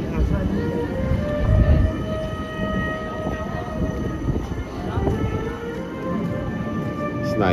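A tram rolling through Birmingham city centre near the Bull Ring, a steady loud rumble with faint tonal whines and hums, sustained throughout, with street noise and people talking around it.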